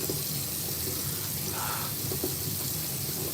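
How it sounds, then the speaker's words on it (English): Cold tap water runs into a sink during a morning face wash, a steady broadband splashing hiss with small shifts in tone, alone without talk. "I'm going to go ahead and wash it with cold water this morning."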